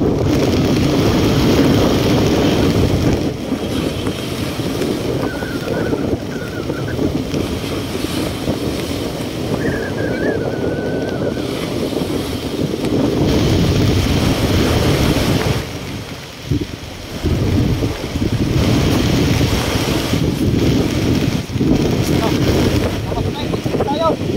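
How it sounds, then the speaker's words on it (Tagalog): Big waves slap and rush around a small boat on open water, a constant loud wash mixed with wind buffeting the microphone, with people talking over it. "Laki ng alon no."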